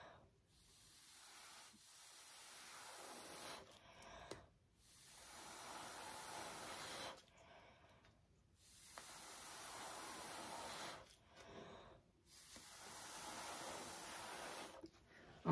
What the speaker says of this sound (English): you want to blow sideways like this, not on top of it